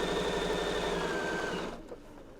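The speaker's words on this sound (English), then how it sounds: "And you're going to keep stitching." A sewing machine runs steadily at close range while stitching wide binding onto a quilt, a continuous whirring hum that winds down and stops near the end.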